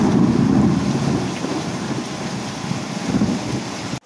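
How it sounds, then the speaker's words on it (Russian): Heavy rain pours down steadily with a deep, low rumble of thunder underneath, loud and continuous throughout. "И пошел у нас ливень"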